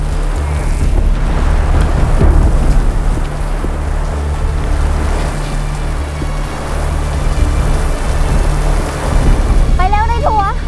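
Steady rain pours down as a loud, continuous hiss with low rumbling beneath, and a short tonal whistle rises near the end.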